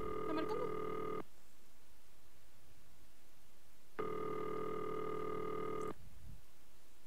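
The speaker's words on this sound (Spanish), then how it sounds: "No hay luz, pero está sonando el teléfono." Telephone ringing in the video game Marta Is Dead: two long electronic ring bursts separated by a silent pause, clear and alone with no talk.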